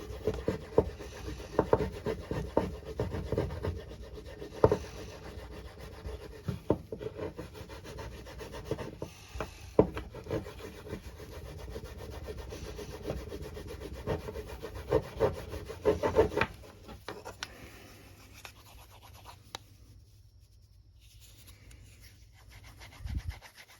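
A carved wooden teaspoon is burnished by rubbing it with a rock, making repeated close scraping and rubbing strokes at an uneven rhythm that go quieter and stop toward the end.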